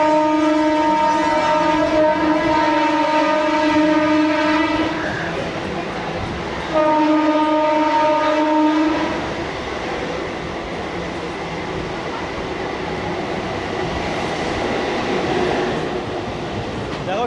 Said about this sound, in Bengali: দেখো আবার সাঁতরাগাছি ছেড়ে দিল আমাদের ট্রেন।